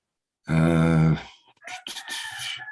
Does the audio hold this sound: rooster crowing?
yes